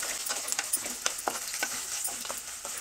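Chopped onions and two slit green chillies tempering in hot oil for a country chicken fry crackle in a steady close sizzle, broken by sharp scraping stirs at irregular intervals, with no voices.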